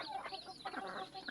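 Hens clucking in a partitioned coop housing mother hens with their chicks, close and fairly soft, short repeated clucks and calls over about a second and a half with no talking.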